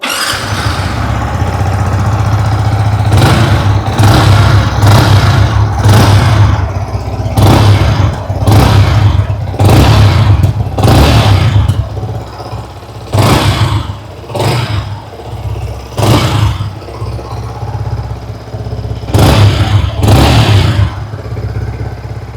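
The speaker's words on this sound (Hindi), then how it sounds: "आइए अभी सुन लेते हैं इस बाइक की एग्जॉस्ट नोट।" A Yamaha XSR 155 motorcycle engine idles with a burbling exhaust, then repeatedly revs up in short sharp bursts, loud and close, with brief drops back to idle between blips.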